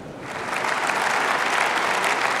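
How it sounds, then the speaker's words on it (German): Sustained applause fills the German Bundestag chamber as the Union parliamentary group claps steadily for minutes after a vote on negotiations over rescuing Greece, a dense, even roar of many hands with no voices over it. "Minutenlanger Applaus aus den Reihen der Unionsfraktion."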